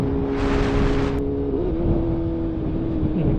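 Road traffic heard from a 2021 BMW S1000RR motorcycle, a loud close engine drone with a car sweeping past early, its hiss cutting off abruptly, then a steady engine hum continuing.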